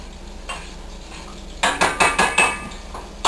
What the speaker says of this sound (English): now I need to stir my soup